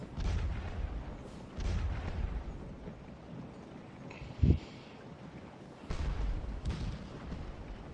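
Civil War artillery from the Scourge of War: Chancellorsville game booms in distant, muffled thuds several times, with one sharper, closer report midway, over low battlefield ambience.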